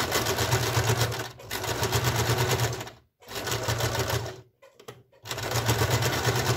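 A sewing machine stitches the seams of trousers in rapid, continuous bursts, pausing briefly twice before running again, close and fairly loud with no talking.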